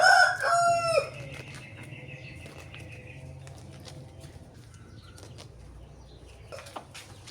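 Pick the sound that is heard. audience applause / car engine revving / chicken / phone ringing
chicken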